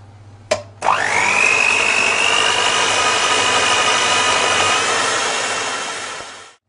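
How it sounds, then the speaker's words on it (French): An electric hand mixer whips egg whites to stiff peaks for a strawberry cake. After a click it starts up into a loud, steady high whir with a whining tone, holding for several seconds before it tapers off at the end. "avec votre batteur électrique, vous montez les blancs en neige"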